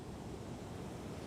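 Ocean waves and wind far out at sea, a steady broad rushing wash with gusty noise, no voices.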